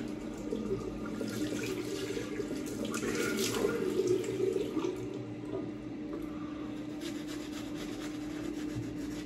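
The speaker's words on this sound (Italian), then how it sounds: "Mi sciacquo il viso." Water runs steadily from a tap with splashing and rubbing sounds as hands rinse the face, close by and continuous.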